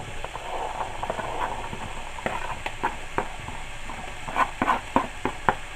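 Chopped carrot frying in a pan over high heat, heard as a steady close sizzle broken by scattered knocks and scrapes of stirring, with no talking.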